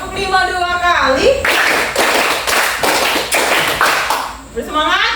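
Children in an Indonesian classroom clap a quick, loud rhythmic pattern of repeated sharp claps for about three seconds, with voices speaking or chanting just before and after.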